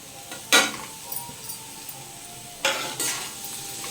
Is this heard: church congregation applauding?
no